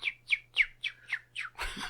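People imitate bird noises with a run of six quick, evenly spaced chirping whistles, near and clear, ending in a brief burst of noisier sound.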